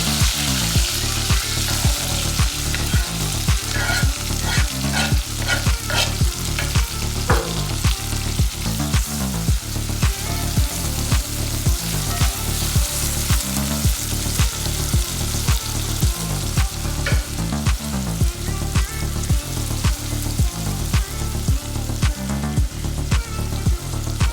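Seasoning sizzles and crackles steadily in hot oil in a pot for a Jamaican saltfish and dumpling dish, a loud continuous frying hiss with brief stirring knocks.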